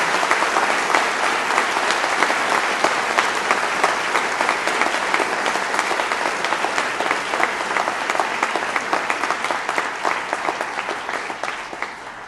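Sustained loud applause from a large audience at a university convocation, dense steady clapping that carries on for over ten seconds before easing slightly at the end.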